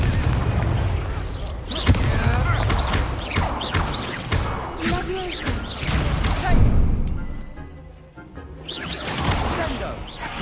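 Confringo fire spell blasts in a hard-difficulty Hogwarts Legacy duel, a dense run of booming, crackling impacts piling up loud and close amid constant shouted spell incantations and battle noise.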